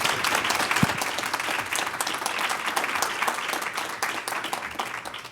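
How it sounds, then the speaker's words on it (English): An audience at a 2022 university engaged-scholarship symposium applauds the panelists with steady, dense clapping that fills the room for several seconds before tapering slightly at the end. "Let's give every one of the panelists a round of applause."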